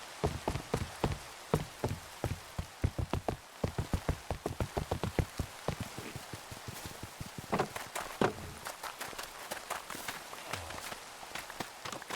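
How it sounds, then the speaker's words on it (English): Minecraft rain during a farming session, a steady hiss of rainfall overlaid with a dense run of sharp, regular footstep-like taps that fades into a softer patter midway and continues to the end. "And it's raining again."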